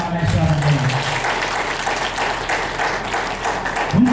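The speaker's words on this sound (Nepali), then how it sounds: "हामी एकपल्ट ताली पनि बजाएर उहाँलाई स्वागत गरौँ।" Guests applaud at a Nepali Christian wedding, a sustained, dense round of clapping from a crowd with faint voices underneath.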